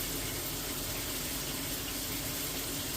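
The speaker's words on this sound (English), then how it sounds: "I'm using it in water that's spraying" Water sprays steadily from an RV shower sprayer fed by a tankless water heater, a continuous, even hiss of streaming water up close with no pauses.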